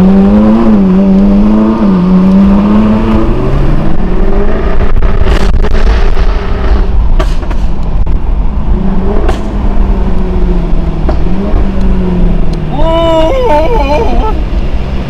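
Jaguar F-Type S with a stock V8 exhaust revving loudly up and down nearby, a deep rising and falling engine note throughout, with sharp pops and people talking excitedly over it.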